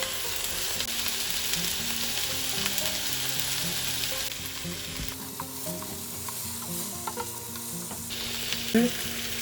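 Salmon fillets sizzle in a frying pan on medium heat, a steady, dense hiss that fills the whole stretch, close and fairly loud, with a faint clink near the end and no voices.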